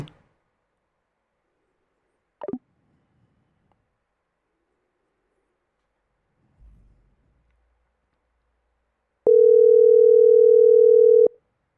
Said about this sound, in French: Patrick, je t'appelle, tu réponds pas